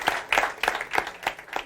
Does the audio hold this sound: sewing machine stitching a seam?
no